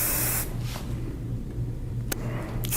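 Hairspray is sprayed onto hair in a salon, a loud close aerosol hiss that lasts about half a second, followed by softer faint puffs and a couple of short clicks.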